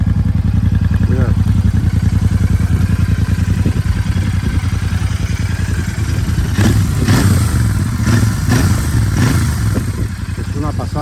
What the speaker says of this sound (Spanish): me enamoré aún más con el sonido que tiene esta moto